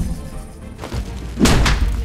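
A squad breaches a door in XCOM: Chimera Squad: low thuds build into a loud, forceful crashing burst about midway, then a brief rumbling tail.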